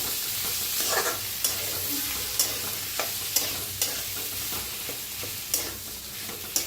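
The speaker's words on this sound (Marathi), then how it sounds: "तर आता चांगलं असं मिक्स करून घेऊया।" Potatoes cooked into a vegetable dish are stirred and mixed in a pan, giving steady scraping and sizzling with regular sharp clinks of the spoon against the pan, close and alone.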